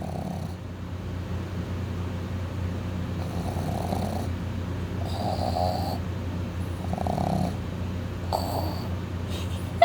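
Pet dog snoring while asleep, a repeated rhythm of raspy snores at regular intervals over a steady low hum, close and clear.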